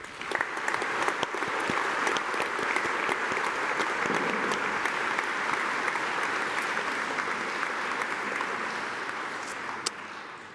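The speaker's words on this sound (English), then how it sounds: "could you please join me in giving a huge round of applause" A large crowd at a university graduation ceremony applauds steadily and loudly, a dense wash of clapping that holds without letup from start to finish.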